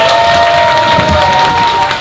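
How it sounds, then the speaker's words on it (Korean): Crowd at a Korean political party gathering cheering and clapping after a call for applause, a loud, dense burst of noise with voices lifting over it for a couple of seconds. "여러분 큰 박수 부탁드리겠습니다."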